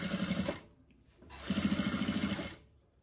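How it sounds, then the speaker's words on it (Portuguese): A sewing machine stitches bias binding onto a diaper holder, running in two steady bursts with a short pause between them, close and fairly quiet. "E agora, eu vou seguir aqui costurando, pegando bem em cima da primeira costura que já foi feita."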